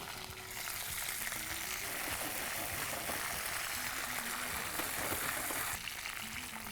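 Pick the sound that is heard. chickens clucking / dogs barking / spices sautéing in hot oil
spices sautéing in hot oil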